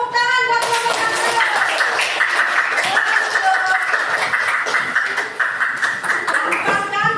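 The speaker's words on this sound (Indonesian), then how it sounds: "kelompok 1 tepuk tangan buat kelompok 1" Children in a sixth-grade classroom clap for group 1, a dense steady patter of small hands running the whole time with a teacher's voice and children's voices mixed in above it.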